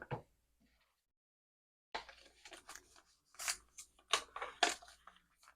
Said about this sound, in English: I just have a little bit here I'm going to cut off.